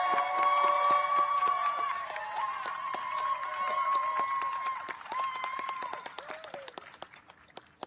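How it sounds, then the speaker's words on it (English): Applause and cheering from an event crowd at a White House gathering honoring the National Teacher of the Year, a dense steady clapping that stays loud for several seconds, then thins out and fades toward the end. "Let's give Tabitha a loud round of applause."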